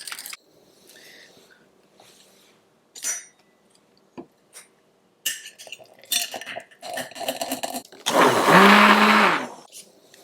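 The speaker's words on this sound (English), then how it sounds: "add some cold water to this now, give it another whiz with my immersion blender" An immersion blender whirs loudly for about two seconds, mixing a Keto Chow shake with cold water, after scattered clinks and knocks of kitchen containers and utensils.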